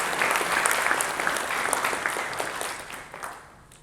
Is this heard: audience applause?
yes